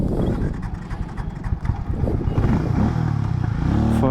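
A Harley-Davidson X440 motorcycle engine runs with a loud, steady low thumping idle close by, with no talking over it.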